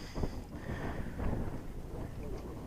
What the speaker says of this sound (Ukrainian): погода така цікава, досить вітряно